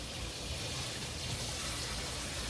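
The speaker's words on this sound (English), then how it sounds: "now I'm going to add some water." Water pours steadily into a soup pot for Zuppa Toscana with tortellini, a continuous broad gushing wash at moderate, even loudness with no talk.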